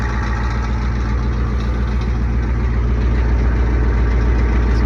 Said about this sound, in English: Most of the clanking is up here now.